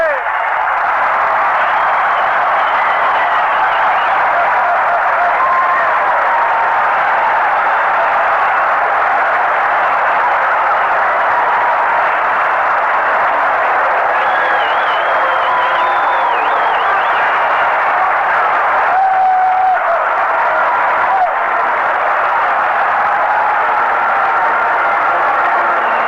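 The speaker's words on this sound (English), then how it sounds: "Listening to that crowd, there's no doubt that this is not a nonpartisan crowd." A baseball stadium crowd in Cincinnati roars and applauds without letup through an old radio broadcast, a loud, continuous cheering wash that swells at moments, with a voice talking over it.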